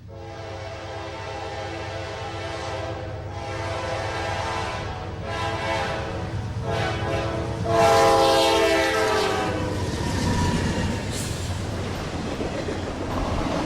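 Norfolk Southern freight train powered by a pair of C40-9W diesel locomotives passes close by, its steady engine rumble rising as the lead units draw near, with horn blasts and continuous rolling of freight cars throughout.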